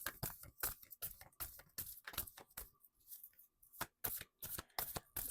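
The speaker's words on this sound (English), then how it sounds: "Just going to shuffle a minute" A deck of Wisdom of the Oracle cards is shuffled by hand, close up, in quick repeated riffling bursts with short pauses, with no talking.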